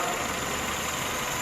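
A rebuilt Hyundai Tucson engine runs steadily at idle, a close, continuous broadband hum with no talk over it.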